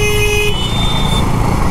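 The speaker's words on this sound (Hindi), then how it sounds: "यहाँ पे थोड़ा बहुत ट्रैफिक भी रहता है" Road traffic near the main gate in Bodh Gaya, a car horn sounding in a sustained toot for about half a second, then steady engine and road noise rumbling on, loud and close, with no one talking.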